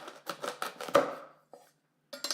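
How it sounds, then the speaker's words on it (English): A kitchen knife cuts straight down through the middle of a spaghetti squash, making a series of close, rhythmic chopping thuds and a sharp knock on the board, then a pause and a few more cuts. "So next we're gonna go straight down the middle of the spaghetti squash."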